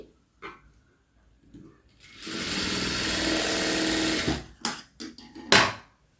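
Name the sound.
sewing machine stitching a sleeve hem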